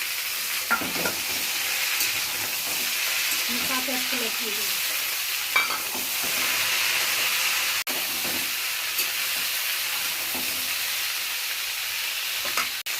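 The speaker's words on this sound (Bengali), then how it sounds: "ডাঁটা হয়ে গেছে, ভাজছি।" Vegetable stems frying in a pan with oil, a steady loud sizzle and hiss throughout, with occasional stirring scrapes and a voice speaking briefly over it.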